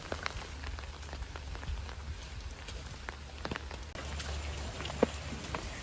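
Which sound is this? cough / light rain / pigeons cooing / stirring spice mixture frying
light rain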